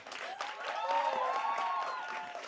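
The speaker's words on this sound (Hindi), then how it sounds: "जितनी आवाज आई है एक बार उतनी जोर से तालियां भी हो जाएं।" Applause from the audience at a Holi folk music concert, a soft, sustained wash of clapping heard at some distance, with faint crowd voices mixed in.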